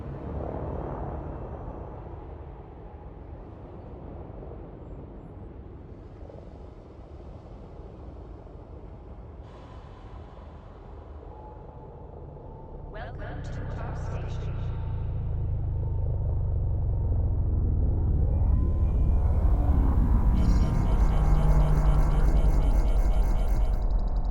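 Spaceship thrusters at 20% power pushing a craft away from a station in the space game Astra, a steady low rumble that swells louder midway and holds as a sustained engine roar, with faint electronic tones above.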